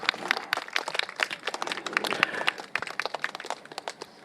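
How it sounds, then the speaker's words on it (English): Scattered, fairly faint hand claps from an outdoor political rally audience standing in the rain in Singapore, crisp separate claps rather than a dense roar, fading and thinning toward the end. "Give yourself a round of applause."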